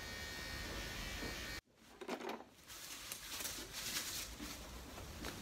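A small electric hair clipper runs during a men's haircut as a steady high buzz that cuts off abruptly, followed by softer brushing and rustling sounds close by.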